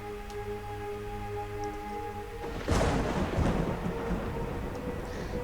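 Thunderstorm sound effect with steady rain hiss, then a loud, close thunder crack midway that rumbles on under continuing rain.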